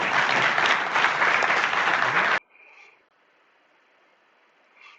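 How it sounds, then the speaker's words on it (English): An audience at a political gathering bursts into loud, dense applause and cheering for a couple of seconds, which then cuts off abruptly into near silence. "you saw them all cheering there"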